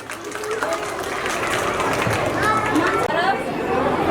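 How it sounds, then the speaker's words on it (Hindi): Audience at a school Independence Day celebration applauding during a prize-giving, a continuous crowd of clapping mixed with chatter and voices talking over it, moderately loud and sustained. "इनके लिए जोरदार तालियां।"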